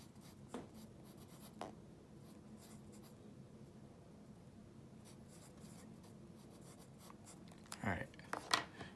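A pencil scratches and taps on paper while a perspective drawing is made, with soft strokes and brief marks growing busier toward the end, heard under a quiet voice.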